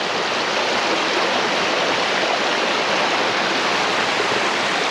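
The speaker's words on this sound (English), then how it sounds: "we have another very wide creek to cross" Steady rushing of a wide creek, Bear Creek in the Cohutta area, flowing over rocks, a continuous broadband wash with no breaks, close and fairly loud.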